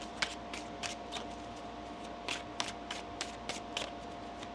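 Tarot cards are shuffled in a steady run of crisp riffling flicks, close and fairly quiet over faint room noise.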